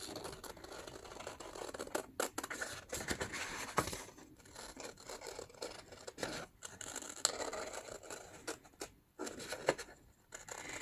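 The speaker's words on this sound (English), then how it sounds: "But I'm gonna again cut straight these papers." Scissors snip through paper while a paper craft is made, with a series of close, crisp cuts and scrapes spread over several seconds and no talking.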